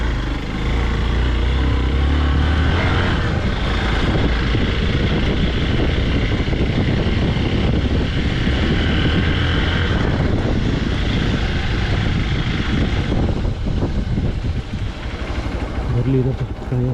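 A motorbike stuck in mud on an off-road trail at Achalu Betta, its engine roaring loudly and steadily at close range with a rough, droning tone, while people talk over it throughout.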